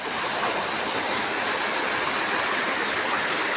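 A waterfall with flowing water roars in a steady, dense rush of broadband noise, loud and continuous with no break.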